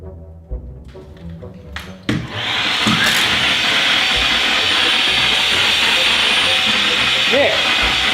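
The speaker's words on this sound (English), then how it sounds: "There's vacuum in the ceiling." A vacuum cleaner running inside a ceiling starts up after a few knocks and thumps, then holds a loud, steady whirring hiss to the end.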